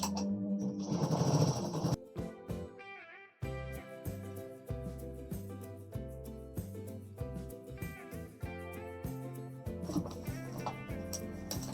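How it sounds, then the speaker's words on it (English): Sewing machine stitching the sleeve lining of a saree blouse one centimeter from the edge, with steady rhythmic needle bursts that stop and start in short runs. "And I stitch 1 centimeter from the edge."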